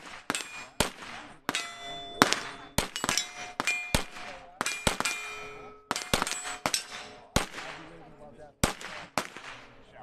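Shots ring steel targets at a shooting range with a Mamba-X, each sharp crack followed by a bright metallic clang that rings on, coming in quick bursts and single hits through the whole stretch.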